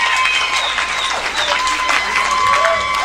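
A comedy club audience applauds veterans and military members with sustained, dense clapping and some cheering, loud and continuous, while voices call out over it.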